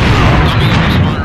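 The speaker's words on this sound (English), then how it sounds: "Enemy grenade!" A grenade goes off in the online shooter Alliance of Valiant Arms, heard as a dense, loud blast and rumble that fills the whole moment over steady gunfire and battle noise.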